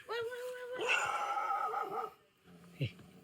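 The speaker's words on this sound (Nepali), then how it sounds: "यतापट्टि घरमा कुकुर रहेछ" A dog at a house in Nepal whimpers and yips in high, drawn-out whines, then gives a short bark, fairly quiet and close by.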